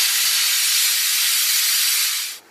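A pressure cooker on a gas stove over a medium flame vents steam with a single loud, continuous whistling hiss that holds steady for about two seconds and then cuts off abruptly.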